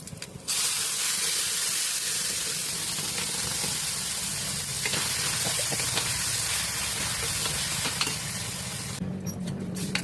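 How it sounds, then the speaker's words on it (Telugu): Dal tipped into a hot pan of tempered curry leaves, breaking into a loud, steady steaming hiss and sizzle that sets in abruptly and holds before cutting off near the end, with no talk. "బాగా వేగిన తర్వాత ఈ పప్పు వేసేస్తున్నాను."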